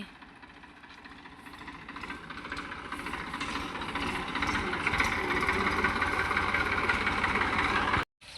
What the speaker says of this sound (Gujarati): ટ્રેક્ટર સારું થઈ ગયું છે હવે જશે